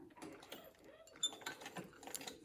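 A hand-cranked sewing machine stitches through denim, giving quiet, close mechanical ticks and ratcheting clicks in a slow, uneven rhythm.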